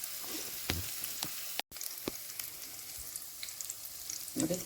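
Guntur dried red chillies sizzle in hot ghee, a steady crackling fry with scattered pops and a stirring scrape, close and continuous without talk.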